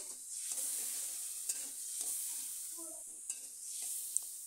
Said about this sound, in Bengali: এবার এই মশলা আমি ভালো করে তেলের সাথে কিছুক্ষণ কষিয়ে নেব।